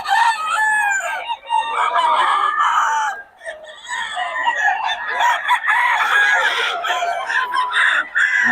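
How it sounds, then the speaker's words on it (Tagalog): Roosters crow loudly and chickens cluck and squawk almost continuously at a Bocaue market, several birds at once, close by, with a busy, noisy crowd of fowl. "Quality mga manok ni Boss Batang"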